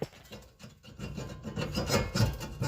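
A front brake rotor on a 1991 Nissan 300ZX twin turbo is tapped and worked loose from the hub, giving close rubbing, scraping metal sounds with a few light knocks and no talking.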